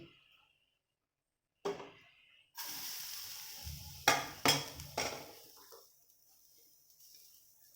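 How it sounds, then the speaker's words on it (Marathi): Grated coconut dry-roasts in the same pan the onions were cooked in. Bursts of hiss and crackle come and go, with a few sharp scraping clatters from stirring, against stretches of near silence. "आता ह्याच आयदनान सोय इल्ली भाजून घेऊया ती."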